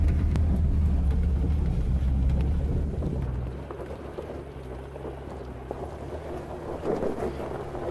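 A vehicle grinds along a dry gravel farm track, rumbling heavily at first, then easing into a rough, scrabbling crunch as the tires lose traction; steady wind noise runs throughout.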